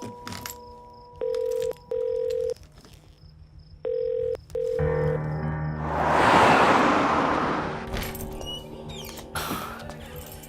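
A telephone rings in a home in short repeated electronic bursts, followed by a louder rushing noise and some clatter, with no one speaking.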